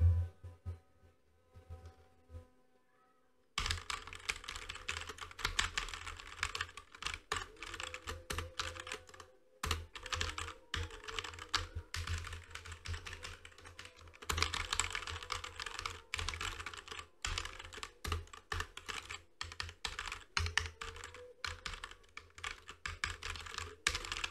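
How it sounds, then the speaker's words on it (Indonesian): Rapid typing on a Fantech Maxpower MK853 keyboard, dense close clacking keystrokes in a continuous flurry after a brief quiet start, with a couple of short pauses. "itu suara ketikannya ya"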